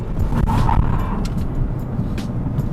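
An Audi car brakes hard on the road: a steady engine and tyre rumble with a brief rising whine that fades as the car slows, heard from inside.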